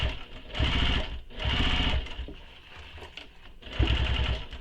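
A sewing machine basting the side and bottom panels of a handmade backpack together, running in three loud bursts of fast, steady stitching with short pauses between.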